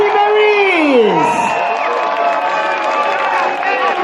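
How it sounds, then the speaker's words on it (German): A festival crowd on Severinskirchplatz in Cologne cheers and whoops loudly, with sliding shouts over a dense, continuous wash of crowd noise that stays strong throughout. "Das ist nämlich euer Applaus vom Severinskirchplatz."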